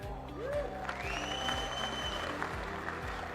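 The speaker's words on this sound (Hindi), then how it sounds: "ताली बजाने के लिए मैं भी वक्त दूंगा।" An audience applauds at a business presentation, a steady wash of clapping that holds evenly throughout, with a few sustained musical tones running underneath.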